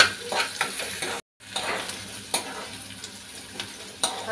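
A large vertically sliced onion sizzles steadily in hot oil for tempering, while a spoon scrapes and stirs it around the pan in a series of short strokes, broken by one brief silent gap.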